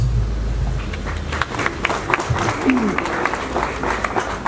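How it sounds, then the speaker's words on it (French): A stadium audience at a concert applauds former footballer Trésor Lomana Lwalwa: a dense field of close, sharp claps with a few louder bursts over a low rumble. "Trésor Lomana Lwalwa mérite plus que ses applaudissements"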